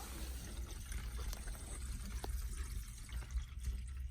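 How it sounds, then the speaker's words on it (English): Water from a bathroom sink drains after the stopper is pushed down, a steady low gurgling rush with faint drips, close by and with no talking. "Push it down. It's draining."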